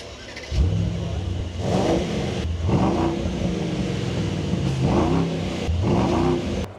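Brabus Rocket GTS, a shooting brake built on the AMG SL63 roadster, fires up with a loud burst and then settles into a steady idle broken by several strong revs, close and alone.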